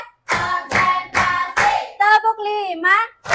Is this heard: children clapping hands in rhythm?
yes